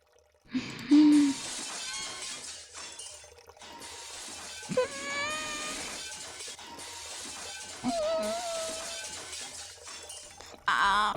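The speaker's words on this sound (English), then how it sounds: "This time I hear the high-pitched noise of glass cracking." In the Sound of Drop: Fall into Poison game, aquarium tank glass cracks and shatters in several loud, bright bursts spread over a sustained rushing, watery background.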